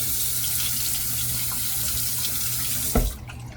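Water runs steadily from a bathroom tap into a sink for a rinse after shaving, a constant close hiss that ends in a sharp splash and then trails off.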